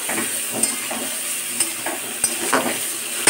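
Spice masala stir-fried in a pan, a steady sizzle with a few sharp scrapes and taps of the spatula at irregular intervals, close and fairly loud with no talking.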